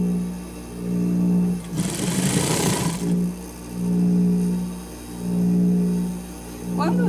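A sewing machine stitches bias-cut fabric in close, loud bursts of steady whirring, three or four runs separated by short pauses, with a burst of rustling fabric handling between them.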